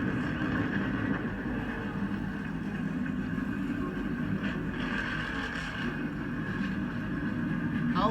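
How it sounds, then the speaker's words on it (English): Race car engines start up together at the Eldora dirt track for the Progressive Cup Series Dollar General Dirt Derby, a steady, loud rumbling drone that holds without a break. "Don Chambers firing up the engines from Dollar General."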